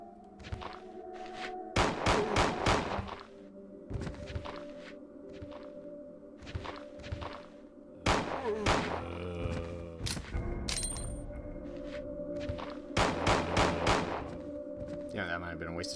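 Gunshots in Resident Evil 2's laboratory section: several sharp, loud shots fired one or two at a time at irregular intervals, with footsteps and thuds in between and voices talking at points.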